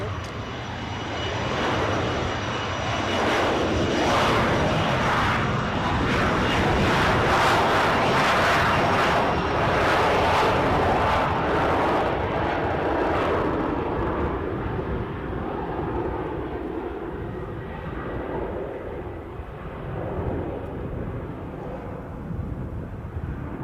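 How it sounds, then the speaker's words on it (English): Embraer airliner taking off at full thrust at Edinburgh airport, a loud broadband engine roar that builds and holds before slowly fading as the jet climbs away, with a voice commentating over it. "Full thrust applied by the flight crew of Clan Kinloch."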